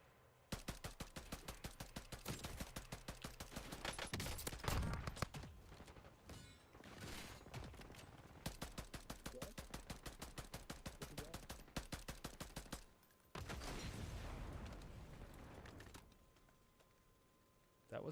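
The Sidewinder gun in a video game fires in long strings of evenly spaced, moderately slow shots, repeated across several bursts with brief pauses, while a voice talks over parts of it.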